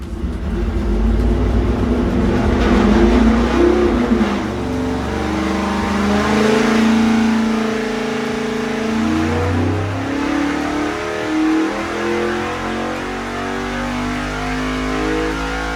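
A 427 engine in a Chevy Nova makes a dyno pull, roaring loud and close as it revs and climbs steadily, then holds a sustained high-rpm drone.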